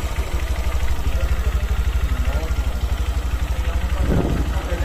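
Honda Verza motorcycle engine idling close by at a steady, even low putter with a regular pulsing rhythm, plus a brief swell near the end.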